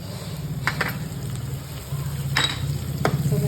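Tomatoes sauté in a pan for a tinda (dhemas) vegetable dish, giving a steady loud sizzle with a few sharp scraping clinks of a spoon against the pan, and no voices.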